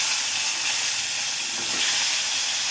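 Small-cut cauliflower and diced potatoes sizzle in hot oil, a steady bright hiss that stays constant throughout, close and fairly loud with no voices.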